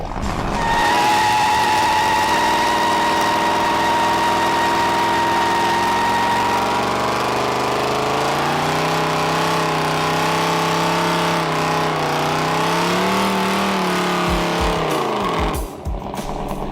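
A 1969 Dodge Dart GTS muscle car with a 440 V8 rumbles steadily for a long stretch, its engine note wavering and rising slightly before cutting off abruptly near the end.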